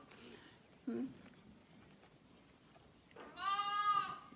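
A lamb or sheep bleats close by in two bursts, a short call early on and a longer wavering bleat near the end, on a farm where eagles threaten the lambs; a person talks quietly in between.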